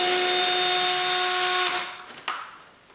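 A power drill driving screws into a wooden board for homemade car ramps: a loud, steady high whine that winds down and stops, followed by a single knock and quiet room tone.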